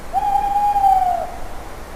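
A single drawn-out owl hoot rings out loud and clear for about a second over a soft background hiss, then fades away.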